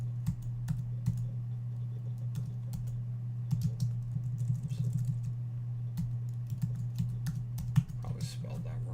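Rapid clicking of computer keyboard keys in irregular bursts, moderately close, over a steady low electrical hum with no talking.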